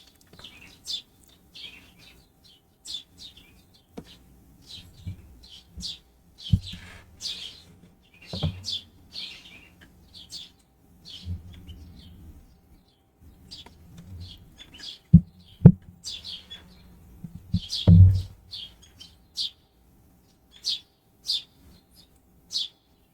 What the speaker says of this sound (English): Hopefully the birds singing in the background aren't too terribly loud.